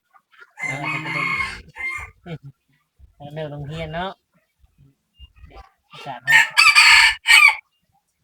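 A rooster crows loudly and close by at a rural home, one full crow near the end of the clip, following stretches of nearby talk.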